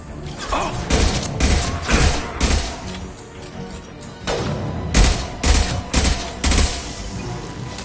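Heavy firefight in the video game Mass Effect 2: repeated bursts of gunfire and sharp impact cracks arrive in clusters, loud and near, over a steady rumbling combat background with scattered mechanical clatter.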